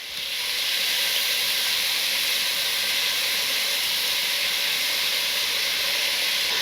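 Brisket or beef pieces coated in Killer Hog's TX brisket rub sear in a hot pan with a steady, loud broadband hiss and sizzle that holds constant throughout, with no talking.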